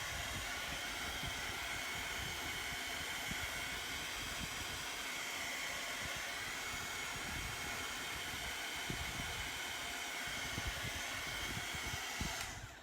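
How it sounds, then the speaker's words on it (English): Heat tool blowing hot air to dry paste on a pumpkin, a steady, loud, continuous whooshing roar that holds unchanged for about twelve seconds before cutting off at the end. "And this is just a heat tool."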